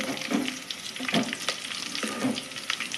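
Sizzling in a frying pan while making tomato egg curry, a steady close fry with a few soft stirring scrapes and crackles throughout.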